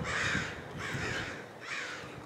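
Several crows caw overhead in three clear bursts, loud and close, with no talking.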